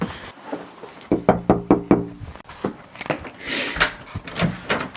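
Knuckles rap several times on a house door in a quick, loud series of sharp knocks, followed by softer shuffling and a faint voice.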